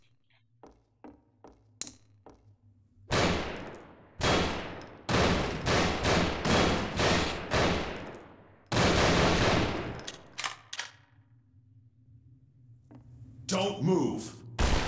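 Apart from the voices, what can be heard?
gunfire from an enemy in Hellsound Dreams horror mod video game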